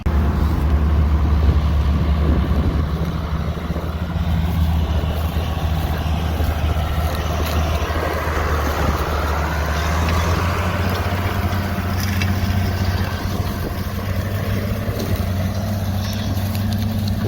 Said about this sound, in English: I'm gonna hop in the tractor and ride with Sam for a little bit.